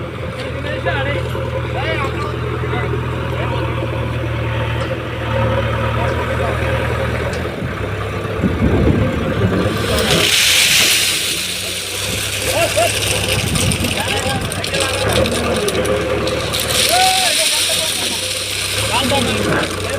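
Truck engine idling with a steady low drone while the vehicle sits bogged down at an unloading site near Shadnagar, with occasional revving swells and people talking over it.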